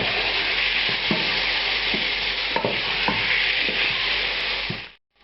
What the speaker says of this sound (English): I'm going to add the tomatoes and the garlic.